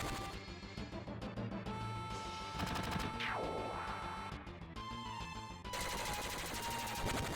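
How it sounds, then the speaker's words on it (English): Beam-gun fire in Final Fantasy VII rattles in steady rapid bursts alongside game music and effects, with a sweeping energy whoosh midway and repeated volleys throughout. "You stop shooting me with your beam gun?"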